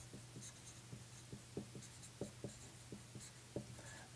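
Pen or pencil writing out a prime factorization, with short scratchy strokes tapping in an uneven rhythm, close and quiet over a steady low hum, with no talking.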